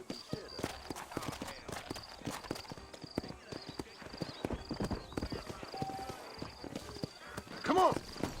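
Horses clip-clopping along in Red Dead Redemption, a busy run of close hoofbeats across the whole stretch with a short whinny near the end and a voice talking over them.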